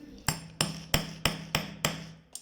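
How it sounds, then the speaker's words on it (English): A sandal strap is hammered down over a cushion while making a double-strap men's sandal: six sharp, evenly spaced blows ring out close and loud, with no talking. "hammer it down"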